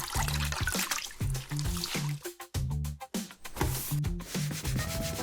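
Wet cloth scrubbing marker writing off a board, rapid rubbing strokes in short repeated bursts with a watery squish, close and fairly loud, faint voices in between.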